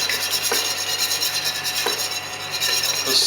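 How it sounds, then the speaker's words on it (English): A spoon scrapes and stirs thick khandvi batter in a pan at close range, a steady rasp broken by firmer strokes roughly every second and a half. "with this you almost constantly you have to mix it and stir it"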